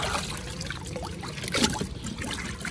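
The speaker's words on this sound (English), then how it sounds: "just take this out and let it drip dry for a while" Water drips and trickles steadily off a soaked alligator hide lifted from an oak bark tanning bath, close by and continuous.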